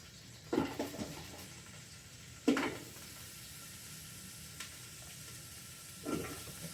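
Vegetables for a diabetic-friendly beef stew hit a hot pan in an electric pressure cooker on saute, giving a few brief sizzling bursts and clunks over a quiet steady hiss.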